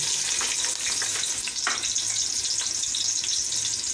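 Chopped onions sizzling in hot cooking oil in a home kitchen pan, a steady bright crackle and hiss with occasional stirring scrapes, close and continuous with no talking.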